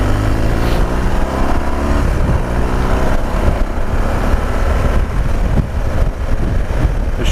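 Motorcycle ridden along city streets in Costa Mesa, its engine a steady loud drone with shifting pitch, heavily buffeted by wind noise against the microphone throughout.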